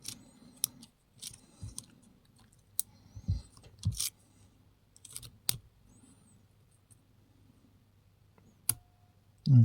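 Small metallic clicks and scrapes from a lock pick working the pins of an old, gunked-up lock, sparse and close, quiet taps scattered in bursts with near silence between them.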